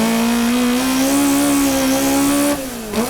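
Hachiroku race car running on track without a GT wing, its rear tires sliding, a loud, sustained engine note held steady and close, dipping and shifting in pitch near the end.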